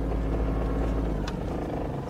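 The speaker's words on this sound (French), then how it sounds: "On met le moteur au ralenti." Fishing boat outboard motor idling at dusk during a squid-fishing trip, a steady low rumbling drone close by and continuous throughout, with no talking.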